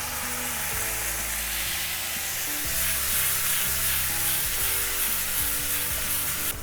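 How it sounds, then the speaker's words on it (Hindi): Ginger garlic paste sizzling and frying in a kadhai, a steady loud hiss that runs unbroken throughout, with occasional low clanks of stirring beneath it. "थोड़ा सा डाल दूंगी जिंजर गार्लिक पेस्ट"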